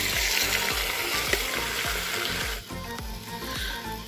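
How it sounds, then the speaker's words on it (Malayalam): Beef, about a kilo, is dropped into melted ghee and fries with a loud, steady sizzle and bubbling for a Kerala-style beef ghee roast, with brief stirring scrapes throughout and no talk. "നമ്മുടെ നെയ്യൊക്കെ ഒന്ന് മെൽറ്റായി വരുമ്പോഴത്തേനും നമ്മുടെ കഴുകി വെച്ചേക്കുന്നത് നമ്മുടെ ബീഫ് തന്നെ ഇട്ട് കൊടുക്കാം"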